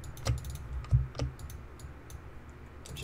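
Computer keyboard keys clack while modeling in Maya, a few quick distinct presses near the start followed by sparser, lighter taps, close and clear with no talking.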